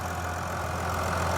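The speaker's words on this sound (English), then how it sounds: "now with the engine running" A 2021 Range Rover HSE D300 diesel engine idles with a steady, even low rumble and a constant hum, close by and uninterrupted, with no talking.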